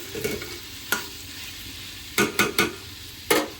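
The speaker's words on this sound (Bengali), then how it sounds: "তো ভাতটা খেতে বসবো, তার আগে নাড়া দিয়ে নিই, আরও পুড়ে যাবে" A tomato dish cooking in a pan is stirred in a few short, scraping strokes over a low sizzle, with quiet gaps between them.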